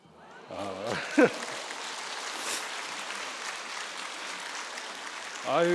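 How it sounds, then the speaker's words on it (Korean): A church congregation applauds during a Wednesday worship service, steady broadband clapping sustained for several seconds, with a brief voice at the start and another at the end. "또 박수 받으니까 기분이 좋으네요."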